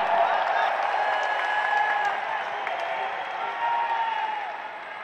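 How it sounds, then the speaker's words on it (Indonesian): A political rally audience applauds steadily for a party leader, a dense sustained wash of clapping and crowd noise that gradually fades toward the end. "Beri tepuk tangan untuk Mas AHY"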